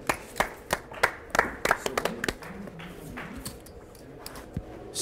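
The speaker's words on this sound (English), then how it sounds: "Round of applause for the staff," A handful of people clap for casino staff at a poker tournament in a Los Angeles casino, with sharp, sparse, uneven claps that thin out quickly, and faint voices behind them.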